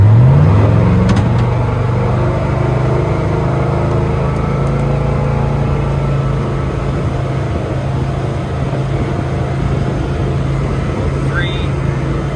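A boat with a four-blade aluminum prop accelerates out of the hole with trim down, its engine a steady loud drone that climbs in pitch at the start and then holds while a voice talks over it.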